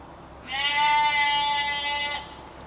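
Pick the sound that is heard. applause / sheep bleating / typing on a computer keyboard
sheep bleating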